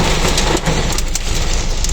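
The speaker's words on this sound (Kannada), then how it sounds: "ಇಲ್ಲಿ ಫುಲ್ ಮಳೆ ಅಂತ ಜೋರಾಗಿತ್ತು" Heavy rain falls steadily in a street near Empire, Jayanagar, a dense, loud wash of drops with no gaps, close around the listener and uninterrupted throughout.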